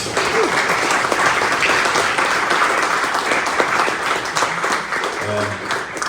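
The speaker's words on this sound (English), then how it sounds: "round of applause for the students here the last month" An audience at a ceilidh claps for students, a sustained burst of applause filling the room for several seconds, with a brief voice near the end.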